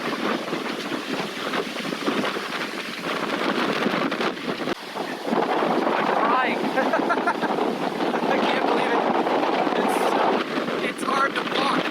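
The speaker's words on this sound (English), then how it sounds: "The waves are breaking over the rocks." Storm waves pound the rocks at Santa Cruz, California, during a winter bomb cyclone, a continuous loud roar of surf churned by strong wind gusting against the microphone, with a distressed voice speaking briefly over it.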